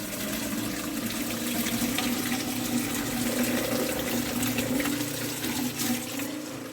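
A water pump runs steadily with a constant motor hum while water gushes and splashes through it, loud and unbroken throughout.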